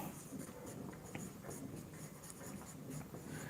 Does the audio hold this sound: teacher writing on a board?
yes